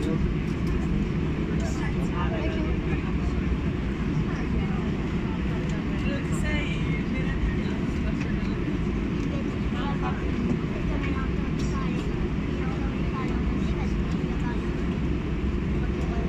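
Air France airliner braking on the runway after landing at Florence, heard from inside the cabin as a steady loud low rumble and roar throughout, with faint cabin murmur and occasional rattles above it.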